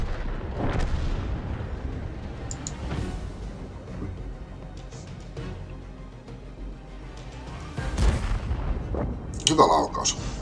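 Deep tank cannon shots boom in World of Tanks, several heavy blasts scattered across the stretch over continuous battle rumble, with a player talking in the background.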